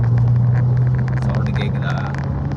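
A Mercedes-Benz E200 fitted with a full AMG kit holds a steady, loud engine drone from inside the cabin, with faint voices in the background.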